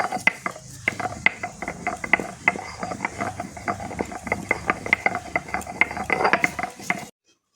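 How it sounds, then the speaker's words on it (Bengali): Roasted garam masala is ground into powder, a fast rhythmic run of dry mechanical clicks and rattles up close that stops abruptly at the end. "ভেজে রেখে দিয়েছিলাম, সেই গরম মশলাটাই আমি গুঁড়ো করে নেব"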